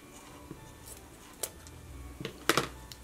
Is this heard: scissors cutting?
yes